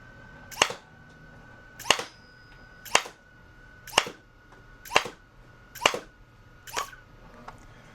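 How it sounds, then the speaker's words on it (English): Toy foam dart blaster firing Nitro Shot Plus darts from an 18-round slim magazine, seven sharp close shots at roughly one-second intervals, each with a brief mechanical clack, no talking. "that fired 6, and then the last Nitro Shot Plus dart got stuck"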